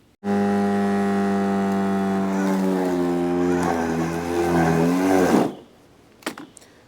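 A Kobalt 40V self-propelled battery lawn mower whines at a steady high pitch under load, sags and wavers as it bogs down, then cuts out abruptly, followed by a few faint clicks.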